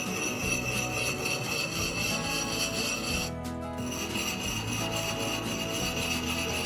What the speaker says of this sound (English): I'm just doing a small grind along top